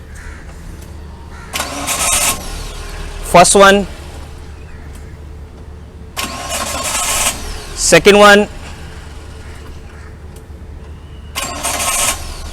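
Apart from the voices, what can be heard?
car engine cranking and starting with portable jump starter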